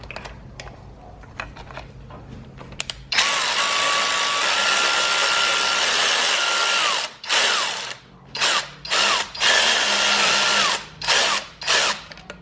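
A power tool removes screws during engine work on a VW Golf MK7, whirring loudly in one long run and then in several short bursts separated by pauses, close up over a low background hum.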